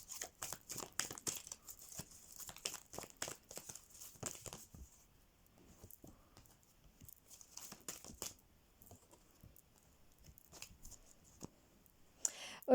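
Oracle cards are drawn and handled, producing scattered close paper rustles, flicks and soft clicks in quick bursts with quieter gaps, no talk.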